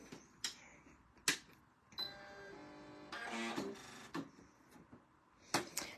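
A Singer Quantum Stylus 9960 sewing machine stitches a zigzag on a scrapbook layout, sounding as quick mechanical whirring bursts with sharp clicks and taps between them, fairly close and quiet.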